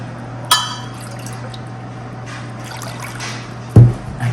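Warm water is poured into a cup while starting seeds from an organic home garden kit, a short trickling pour bracketed by a soft knock at the start and a louder clunk near the end.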